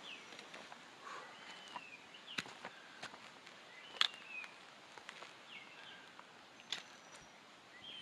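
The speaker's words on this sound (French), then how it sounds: "Vous entendez les oiseaux?" Faint, scattered birdsong rises from the forest along a hiking trail in La Réunion, with short distant chirps over a quiet background of soft rustling and footsteps.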